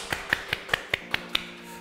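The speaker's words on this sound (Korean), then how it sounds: "박수 먼저 쳐드리겠습니다" Seven evenly spaced hand claps, crisp and close, in a quick steady rhythm with no voices.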